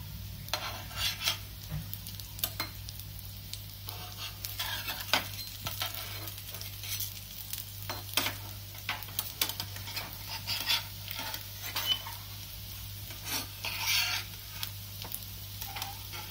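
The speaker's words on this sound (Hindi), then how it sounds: "अभी दूसरे साइड से भी इन्हें फ्राई कर लेंगे।" Soya cutlets sizzle and fry in a pan, turned over to brown the second side, with steady crackling, scattered clinks of a utensil against the pan and quiet stirring sounds throughout, no voices.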